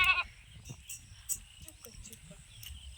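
A single short goat bleat at the start while the goat is being milked and kicking, then faint shuffling and movement noises with low background rumble.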